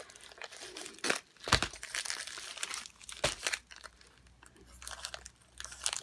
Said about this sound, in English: I'm gonna cut them all open before I start.